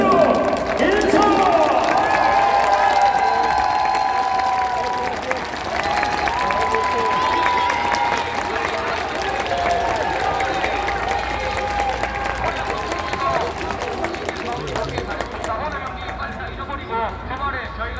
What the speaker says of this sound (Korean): 우리 전사들이 인사드릴 때 그 어느 때보다 뜨거운 박수와 환호를 부탁드리겠습니다